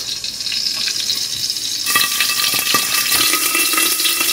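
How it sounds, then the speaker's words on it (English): Bacon sizzles and spatters in hot oil in a pan under a clear lid, a loud, dense crackling hiss throughout that grows brighter partway through, with no talk. "Place a clear lid on the pan to prevent the oil from splashing everywhere."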